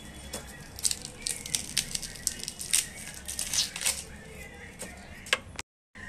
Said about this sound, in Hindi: अब हम छोलते हैं प्याज को। अब हम काटते हैं प्याज को।